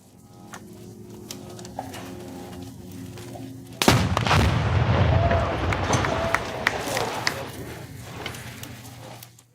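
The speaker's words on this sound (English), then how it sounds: "The explosion doesn't reach that far." A sudden loud explosion in Gaza, set off by paratroopers to destroy an enemy position, booms after a few seconds of quiet engine idle, followed by a long roaring rumble and crackling debris that fades slowly.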